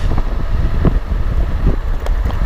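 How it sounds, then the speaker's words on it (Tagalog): Steady strong wind buffets the microphone while riding a bicycle along a mountain loop road in Infanta, Quezon, a continuous loud roar with low rumbling gusts throughout. "Lakas ang hangin."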